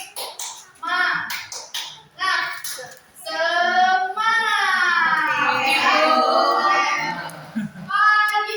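Indonesian schoolchildren in a classroom chant in unison, answering their teacher with a rhythmic spirit chant, with short bursts of sharp taps and claps between the voices.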